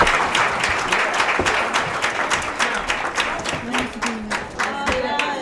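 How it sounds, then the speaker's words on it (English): An audience at a Women's History Month event applauds steadily for several seconds, a dense, lively wash of clapping with a few individual claps standing out and some faint voices underneath. "One last applause for these wonderful trailblazing women."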